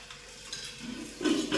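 Dal being tempered in a home kitchen pan gives a short, soft sizzle with light stirring and utensil scraping, building a little louder toward the end, with no talk.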